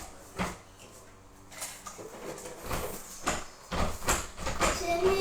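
A household door is opened and closed, with a couple of soft thumps and clacks among indoor bustle and rustling, a faint voice in the background.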